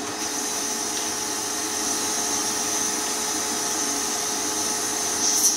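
Continuous whine of a vacuum cleaner with a crevice tool running steadily at close range while emptying an iRobot Roomba 960 bin, with a faint rising whistle near the end as the nozzle shifts.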